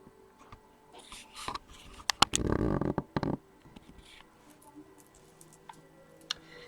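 Tarot cards shuffled by hand at a reading table, a soft riffle and flutter of card stock with a dense burst midway, set among scattered light ticks and taps close to the mic, with no talking.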